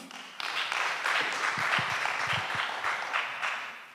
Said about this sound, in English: Let's clap for Lenny.